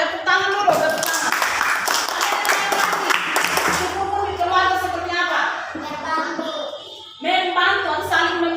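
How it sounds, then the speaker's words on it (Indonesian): A class of young children claps on cue in a classroom lesson, a burst of scattered, quick clapping early on, followed by an adult's voice and children's voices talking over fading claps. "Tepuk tangan dulu"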